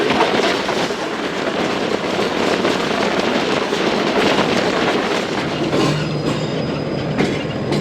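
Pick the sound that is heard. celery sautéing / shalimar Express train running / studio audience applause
shalimar Express train running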